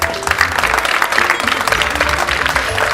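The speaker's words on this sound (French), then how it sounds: "Elle mérite nos applaudissements." Audience clapping steadily at a formal awards dinner, a dense, sustained wash of applause filling the room from start to finish with no voices standing out.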